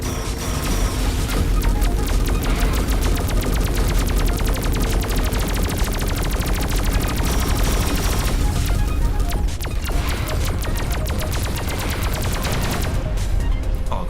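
Continuous rapid-fire space-combat gunfire in Everspace 2, loud and dense with rattling machine-gun bursts and occasional booms throughout, no voices.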